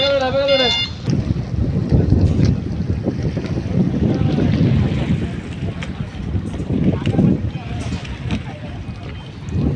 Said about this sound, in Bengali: এই যে দেখুন জাহাজগুলো যাচ্ছে, শিপগুলি এবং বালুর ট্রলার।